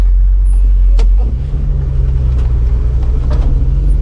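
A wrecker truck's engine rumbles loud and close as the driver shifts gears while driving, the low drone dropping in pitch after the shift, with a few faint clunks.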